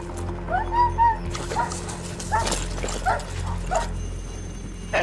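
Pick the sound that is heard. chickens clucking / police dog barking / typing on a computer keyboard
police dog barking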